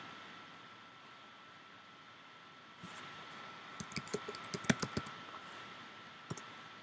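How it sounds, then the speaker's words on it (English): A name typed on a computer keyboard, a quiet run of light key clicks in quick irregular bursts over steady background hiss, ending with a final couple of taps. "So when you type in Revestor"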